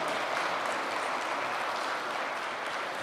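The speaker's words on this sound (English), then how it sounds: "Let's give them a big round of applause." Loud, dense applause fills a hall at a university president's installation ceremony, a continuous wash of clapping from a large crowd with no pauses.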